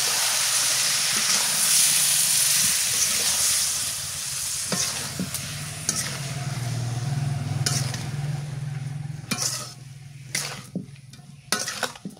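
Spicy chilli shrimp poured into a hot pan, a loud hissing sizzle that bursts up and then slowly settles, followed by a few sharp clinks and scrapes of a utensil against the pan.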